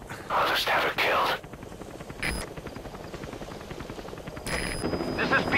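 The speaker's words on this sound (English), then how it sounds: "I'll send the extraction chopper." Extraction helicopter arriving in Metal Gear Solid V: The Phantom Pain, a constant rotor thump with bursts of gunfire, while game voices speak over radio chatter in short spells.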